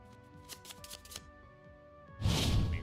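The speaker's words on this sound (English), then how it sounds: "Then shuffle." A deck of Cardfight Vanguard trading cards is shuffled in a brief, dense riffling burst near the end, following a stretch of light card handling and soft taps over low background hum.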